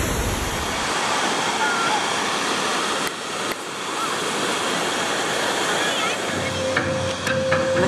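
Surf rolling in a wave pool at Volcano Bay water park in Orlando, Florida: a steady, loud wash of churning water and spray fills the whole stretch without a break, with faint crowd noise under it.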